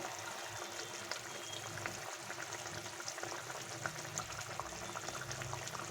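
Rohu fish curry gravy bubbles at a steady simmer in a pan, a faint continuous hiss with soft popping bursts.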